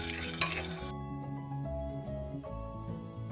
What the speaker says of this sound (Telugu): ఇప్పుడు ఒక చిన్న కప్పు పల్లీలు తీసుకోండి, మంచిగా దూరగా వేయించుకోవాలి.